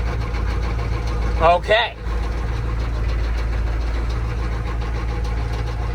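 Low, steady rumble of a 6.2 Detroit diesel truck engine idling in bitter cold wind around 21 degrees, broken by a brief burst of mechanical clatter near the middle; a voice speaks briefly.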